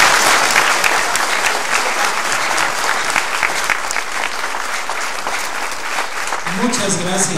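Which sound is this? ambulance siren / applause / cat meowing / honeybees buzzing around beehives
applause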